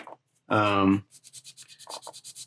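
Sanding mold lines on a 1/4 scale Deadpool figure kit with 100 grit paper: one loud half-second rasp, followed by a run of quick, softer scratchy strokes in an even rhythm.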